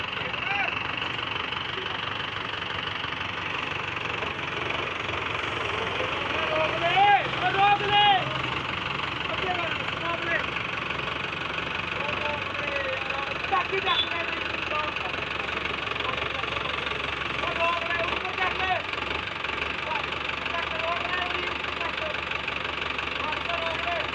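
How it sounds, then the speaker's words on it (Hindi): A steady, droning tractor engine runs close by in a field, pulling a machine behind it, a constant mechanical rumble with people talking over it. "ये ट्रैक्टर है, उसके पीछे मशीन है"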